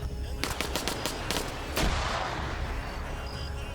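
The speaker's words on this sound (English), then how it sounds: "Another grenade going out." Arma 3 combat: a burst of rapid gunshots cracks out, followed by a loud broadband grenade blast that rolls into a long, noisy rumbling decay.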